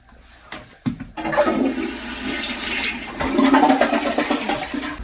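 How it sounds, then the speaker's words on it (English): A toilet flushes up close in an Alaska lodging, a sudden loud rush of water that swirls steadily and then surges again near the end, heard alone without talk. "We have a flushing toilet that doesn't go to a black tank."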